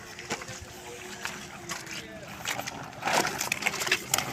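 A live fish jumps and thrashes inside a plastic bag of water, making a few short, close splashes and sloshes against steady background noise, most vigorous near the end.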